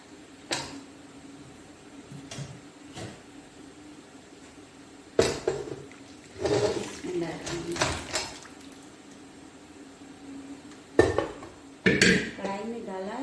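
Metal utensils clatter and scrape against a kadai as peeled ingredients go in for dal gosht, with sharp clinks and bursts of rattling between quieter gaps while someone talks.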